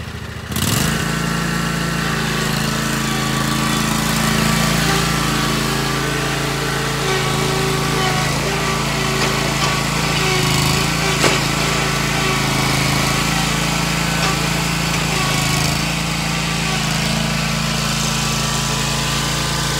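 A zero-turn mower engine runs steadily and loud throughout, a constant droning hum with strong low harmonics that starts abruptly and holds with little change while the mower works at climbing a curb.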